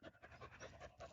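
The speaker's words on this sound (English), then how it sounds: "my dog is panting" A dog pants loudly and close by, in quick, rhythmic breaths that repeat steadily for about a second.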